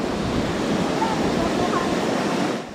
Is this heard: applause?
no